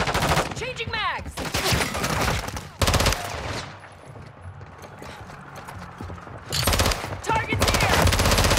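Modern Warfare 3 gunfire comes in loud bursts at the start and again near the end, with a quieter stretch in between and some clattering mechanical effects.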